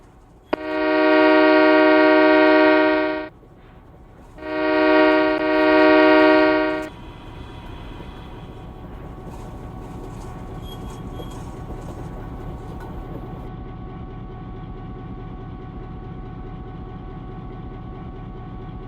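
A McNary Railroad train arrives sounding two loud sustained horn blasts, the second longer, followed by a steady rumble of rolling cars with faint clanks, a steam locomotive at the end of the consist.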